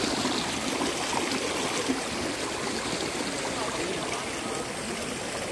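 A river stream flows with a steady, dense rushing and gurgling, close and constant without a break.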